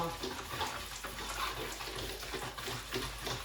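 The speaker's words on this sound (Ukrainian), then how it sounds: "Як стріляє, чуєте, як стріляє сіль? Кухонна кам'яна." Continuous crackling and popping of kitchen rock salt in liquid in a pot, steady and close with a watery hiss underneath.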